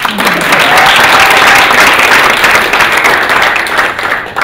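Steady applause from a town council meeting audience, loud and sustained, continuous clapping from a room full of people with no talk over it.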